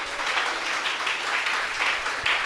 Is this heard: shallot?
no